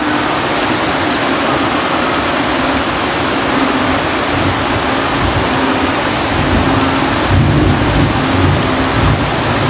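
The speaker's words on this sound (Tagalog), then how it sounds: "Ang lakas ng kulog, ang lakas ng kidlat." Heavy rain pours steadily during a flooding storm, a dense continuous roar close to the microphone, with deeper low rumbling swelling faintly in the background and no talking.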